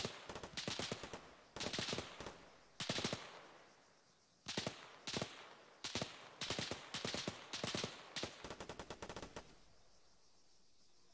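Gunfire in the video game Arma, a custom Zeus mission: sharp bursts of automatic fire come in several rapid volleys separated by short pauses, loud and close, with no talking.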